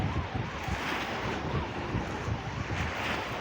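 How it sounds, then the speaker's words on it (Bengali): Rough sea waves roll in at Bakkhali beach at night, a constant, full roar of surf mixed with wind buffeting the microphone. "দেখুন কি সুন্দর উত্তাল সমুদ্র।"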